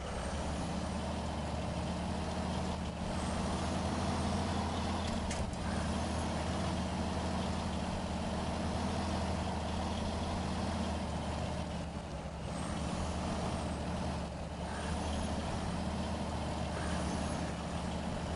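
A truck in the SnowRunner video game rumbles steadily and continuously, with occasional hissing air-brake releases and faint beeps, and no talking.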